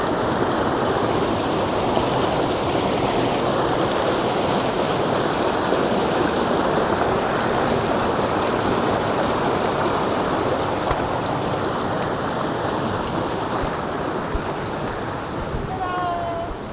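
Hikers splash through a stream on the Appalachian Trail: a steady, loud rush of stream water throughout, with splashing mixed in and faint voices in the background.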